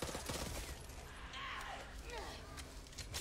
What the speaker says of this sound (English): I don't think he liked the fact that we were all shooting at him